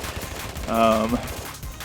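In the mobile shooter Afterpulse, an MK330-GL grenade launcher fires amid a busy firefight, with a loud, close burst of gunfire and a short tonal blast rising over steady background action.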